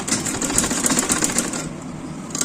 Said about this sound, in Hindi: तो इस पर मैं कर लेती हूँ एक बार डबल सिलाई